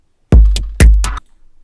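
A Behringer Neutron synthesizer plays gated noise that follows a loop: two sharp, loud bursts of hissing noise, each cut off abruptly, then near silence.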